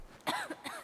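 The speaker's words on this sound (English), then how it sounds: "Yeah, the coughing is in game." A few short, rough coughs from a character in the video game Black Myth: Wukong, in quick succession, close and fairly loud, with no talking around them.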